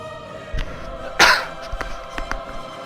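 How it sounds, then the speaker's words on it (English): A single sharp sneeze bursts out amid a quiet indoor background while someone plays a World of Warcraft Fury Warrior session, followed by a few soft clicks and small noises. "sorry, just sneezed."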